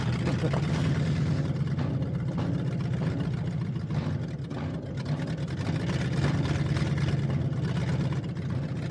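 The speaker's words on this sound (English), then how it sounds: "there's a very grumpy engine right next to our microphone" A street stock race car engine idles roughly right beside the microphone, a loud, steady low rumble with slight surges that holds for the whole stretch.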